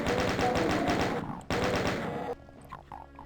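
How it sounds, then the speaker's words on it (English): Rapid chaingun fire in the Doom 2 game, two loud sustained bursts of rattling shots separated by a brief gap, followed by quieter game sounds. "the chain gun is nice at sniping them as they pass through"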